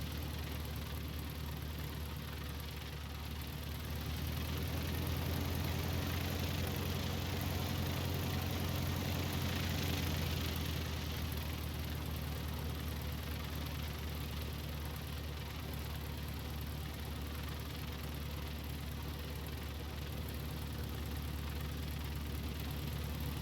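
Simulated Piper Arrow III piston engine idling on the ramp in X-Plane 12, a steady low rumbling drone with a slight knock, continuous and unchanging for the whole stretch.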